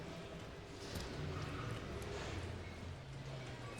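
Hooves of a chestnut horse on course at a CSI show jumping competition in Verona, a dull clip-clop under steady arena ambience and crowd murmur, moderately distant with no clear individual strides standing out.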